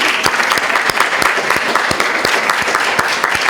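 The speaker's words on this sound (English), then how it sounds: "Hello, and have a round of applause." Staff at an all-staff meeting applauding to welcome new staff, a loud, sustained round of crowd clapping with sharp individual claps standing out.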